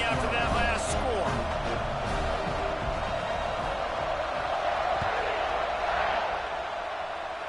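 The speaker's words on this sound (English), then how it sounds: "this crowd is buzzing after that last score" Stadium crowd at a college football game buzzes steadily after a score, a dense roar of voices and cheers that stays loud and continuous throughout, with scattered shouts rising out of it and a commentator talking over the noise.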